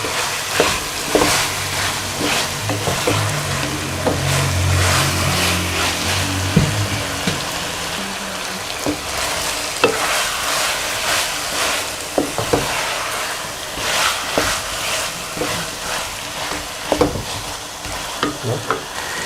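Potatoes and fenugreek leaves frying in a pan while being stirred, a steady loud sizzle punctuated by repeated scraping spatula strokes and light clanks, close-up with no talking.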